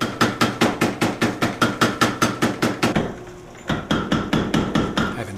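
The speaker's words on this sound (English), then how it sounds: "I'm forging the point of the blade, the very tip." A hammer pounds a hot steel blade, forging the very tip of a Japanese sashimi knife, in a fast, even run of loud ringing strikes that pauses for a moment and then resumes at the same rhythm.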